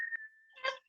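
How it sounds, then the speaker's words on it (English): A whistle is played, giving a thin, steady tone that holds for a moment, then a brief louder, breathier burst at the end, all quiet and close. "I can play the whistle."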